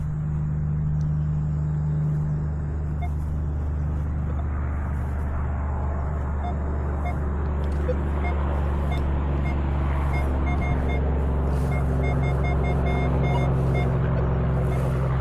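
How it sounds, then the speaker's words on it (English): Heavy trucks pass on a road near a park, a continuous loud low rumble of engines and tire noise that swells and fades without pause, with faint beeps and clicks on top. "I'm sure you hear how loud those trucks are"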